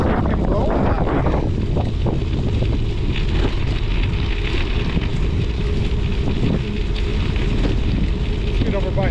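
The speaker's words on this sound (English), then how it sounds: "That wind is getting a little chilly." Strong wind buffets the microphone out on frozen Green Bay during a winter ice bike ride, a loud, constant low roar with gusty rumbling throughout.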